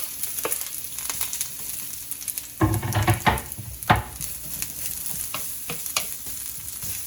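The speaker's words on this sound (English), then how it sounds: "we're gonna fry the shallots a bit so they turn nice and crispy" Steady sizzling of shallots frying in a pan over medium heat until crispy, with occasional stirring scrapes and crackles, close and moderately loud, no voices.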